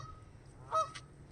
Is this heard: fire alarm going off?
no